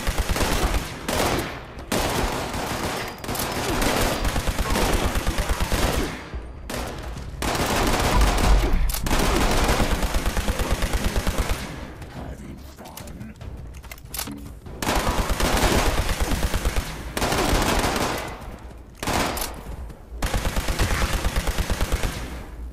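Ultrasight Laser Rifle firing in Fallout 76, repeated long bursts of rapid automatic shots, loud and close, separated by brief quieter gaps.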